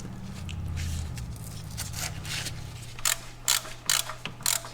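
Ratchet snugging nuts on the AC compressor lines of a Dodge Grand Caravan, a quick run of light clicks followed by several short bursts of sharper ratcheting, close and alone.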